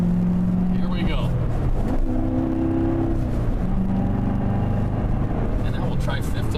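A 2014 Corvette drives on a freeway, its engine droning steadily and rising in pitch as it accelerates through the gears, heard from inside the cabin with a person talking over it.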